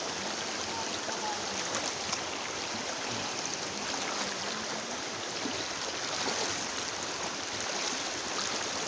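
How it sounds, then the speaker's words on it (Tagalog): Faint, steady rush of an overflowing, flooding river in Barangay Bubon, Nueva Ecija, a continuous even wash without breaks or voices. "Mapaw na ilog."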